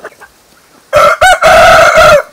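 A rooster being fed water hyacinth lets out a loud, close crow in two long bursts, after a few faint clucks from the hens nearby.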